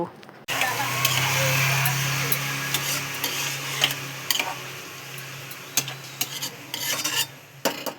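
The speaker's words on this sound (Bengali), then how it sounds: "পনিরটা দিয়ে ভালো করে মিশিয়ে নেব।" Paneer cubes are stirred into simmering gravy in a pan, with irregular spoon clicks and scrapes over a steady low bubbling hum that runs throughout.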